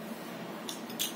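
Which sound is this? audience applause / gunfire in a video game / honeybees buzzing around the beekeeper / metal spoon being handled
metal spoon being handled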